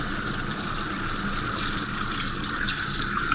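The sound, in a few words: pouring pai ki yakhni (trotter stock) into mutton kunna pot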